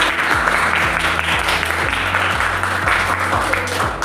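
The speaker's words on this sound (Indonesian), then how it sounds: "tepuk tangan untuk hasil diskusi hari ini" Applause from a classroom of students fills the whole span in a steady, dense patter of clapping, with a faint musical tone running underneath.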